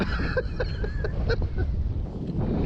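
Strong gusty wind buffets the microphone at an RC flying field, a loud continuous roar with low rumble throughout, plus a few faint brief chirps or honks in the background; no talking.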